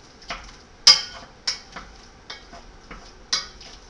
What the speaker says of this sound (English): So I'll just continually stir it